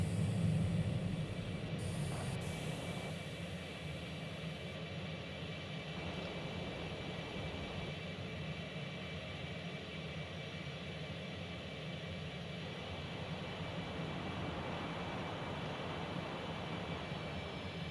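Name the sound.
F-18 jet flying in X-Plane flight simulator video game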